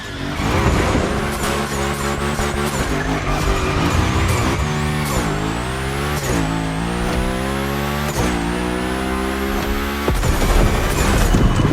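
Car drifting through a Gymkhana course in The Crew Motorfest, a loud engine revving up and down in sweeping pitch glides while tires squeal and skid continuously, with brief drops as it shifts and slides along the line.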